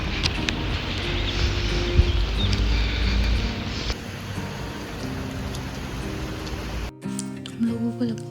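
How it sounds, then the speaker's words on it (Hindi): Rain falls outdoors in Italy as a steady hiss, with a break near the end where other sounds take over. "और अब बारिश हो गई।"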